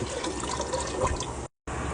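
Water pours steadily into a gallon-size glass jar, a continuous splashing rush that cuts out abruptly near the end and then resumes.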